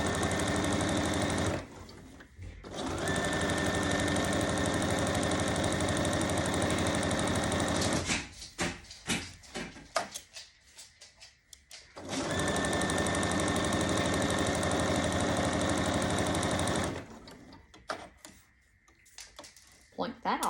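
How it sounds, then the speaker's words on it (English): A sewing machine stitches an apron's fabric in two long steady runs, a dense rapid whir that stops and starts between bursts, with quieter gaps of handling noise in between. "Take a few stitches, do a back stitch, and then we're off to the races."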